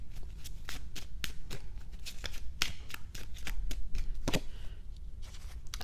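Oracle cards are shuffled and pulled by hand, a rapid series of crisp riffling flicks and slaps, close and continuous, with a brief soft voice near the end.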